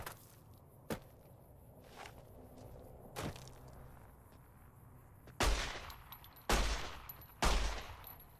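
Gunfire aimed at a gecko in Fallout: New Vegas: six sharp single shots, spaced a second or so apart. The last three are much louder and closer, each followed by a short ringing tail.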